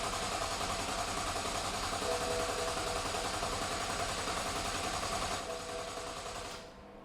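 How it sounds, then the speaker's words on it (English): An electric fuel pump on a BMW 335i F30 whirring in a steady, buzzing drone that runs unbroken for several seconds before winding down and cutting out near the end. "We're gonna hit the fuel pump again for 120 seconds."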